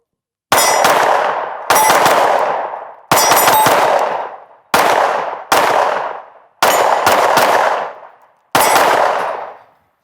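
Sig Sauer P320 XCARRY Coyote pistol fired at a range: seven or eight loud, close shots in irregular bursts, some doubled, each followed by a ringing decay.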